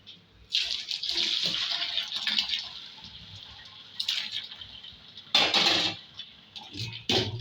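Boiled gongura leaves are drained, with water pouring and splashing in several bursts of varying strength, close and fairly loud, separated by short quieter pauses.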